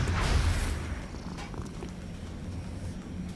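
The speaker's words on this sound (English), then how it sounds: "Look at those purrs. Listen to those purrs." A cat purrs steadily up close, a soft continuous low rumble with faint rustling.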